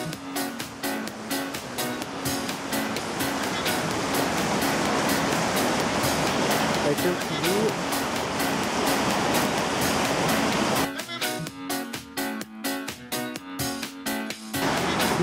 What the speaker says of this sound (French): on vient d'arriver à la cascade de la Pisserotte. Donc elle est juste là.